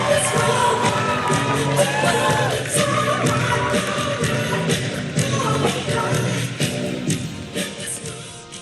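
A large crowd at a Howard University rally in Washington, D.C. cheers and yells continuously, with whoops and a busy wash of voices at steady loudness.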